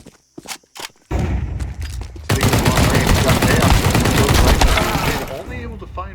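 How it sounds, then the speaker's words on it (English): Shotgun fire from an XM in a video game comes as a dense, loud barrage of blasts and bursts that fill most of the moment, following a few sharp isolated reports at the start. "it's a shotgun"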